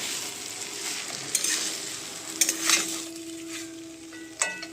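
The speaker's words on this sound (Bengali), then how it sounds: "এবার যতক্ষণ এই পেঁপেটা থেকে জল বেরাবে তুমি ততক্ষণ এটাকে একটু ভালোভাবে ভেজে নেবে" Papaya pieces fry in a pan with a steady, close sizzle, broken by a few sharp scrapes and knocks of a spoon stirring against the metal.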